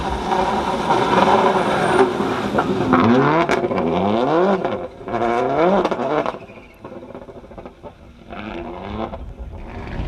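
Loud rally car engines, including a Toyota Corolla, rev and whine through rapid gear changes in rain across mountains, pitch sweeping up and down as cars pass close, then fading to a distant drone.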